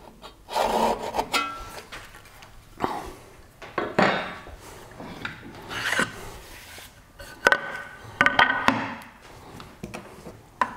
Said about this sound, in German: säge hier und da, wo es notwendig ist, noch ein wenig nach, damit ich genau auf meinem Riss bin